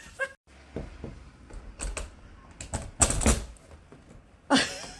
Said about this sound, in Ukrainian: Буду відчиняти двері.